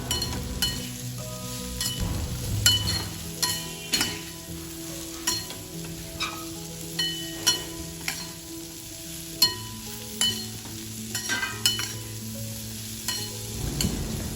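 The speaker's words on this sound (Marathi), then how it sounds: "कोथंबीर टाकून परत एकदा परतवून पाच ते दहा मिनटे भाजी चांगली शिजू द्यावी" A spoon stirs kantola (spiny gourd) vegetable in a pan with steady scraping and occasional clinks, while a continuous sizzle of frying runs underneath.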